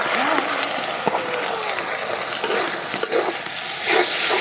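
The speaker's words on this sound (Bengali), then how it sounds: "সব কিছু দিয়ে আমি ভালো করে আগে ভেজে নেব" Bay leaf, cardamom, cinnamon and whole cumin fry with ginger, garlic, onion and cumin paste on a village clay stove for kala bhuna beef. The oil gives a steady loud sizzle, broken by occasional scrapes and knocks as the pan is stirred.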